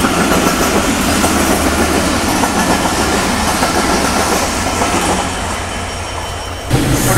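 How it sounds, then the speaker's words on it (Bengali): The Rupsha Simanta Express, running from Khulna to Chilahati, thunders past close by, loud and continuous, with clattering wheels and squealing rails that ease off slightly near the end. "আর আমাদের সাথে দেখা হয়ে গেল রূপসা সীমান্ত এক্সপ্রেস"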